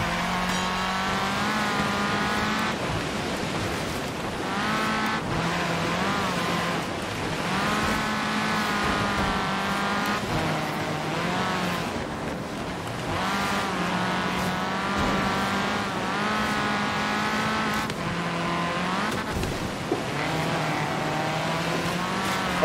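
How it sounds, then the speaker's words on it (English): Alumi Craft race car in Forza Horizon 3 screaming along at high revs, its engine note climbing and dropping with each gear change and lift, continuous and close, with occasional tire noise. "This is the second race now in the Alumi Craft."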